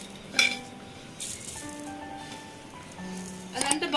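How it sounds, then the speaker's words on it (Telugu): Mustard seeds and cumin hit hot oil in a pan for pudina upma, giving short bursts of crackling and popping between quieter stretches, with a louder, busier clatter at the end. "ఆయిల్ వేడెక్కాక మనం ఆవాలు వేసానండి, జీలకర్ర వేసాను."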